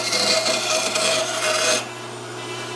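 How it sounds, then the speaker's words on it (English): A spokeshave pares wood from a carved surf scoter duck decoy body, giving a close, dry rasping scrape for under two seconds before it stops and leaves quiet room tone. "Pat uses a spoke shave to remove the saw kerf"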